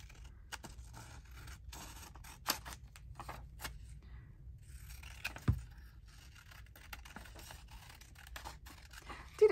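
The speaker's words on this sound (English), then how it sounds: "I'm going to cut this out." Paper is cut out with scissors in a craft session, quiet intermittent snips and rustles with scattered sharper clicks, close and faint against a near-silent room.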